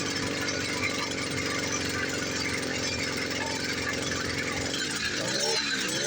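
A 50cc ChinaDoll moped engine straining up a hill with the choke on, a steady buzzing, rattling drone at constant loudness, close to the rider, with a brief rising and falling whine near the end.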